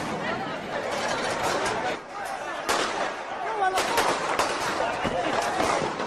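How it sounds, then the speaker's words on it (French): Gunshots fired into a crowd in documentary street footage, sharp cracks and pops ringing out amid agitated shouting and crowd chatter, the shots scattered and fairly close. "Des coups de feu retentissent"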